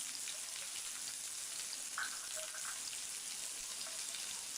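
Potatoes sizzle softly in a pan with oil before onions, green chillies and cumin go in, a faint, even crackle with an occasional light clink, steady and uninterrupted.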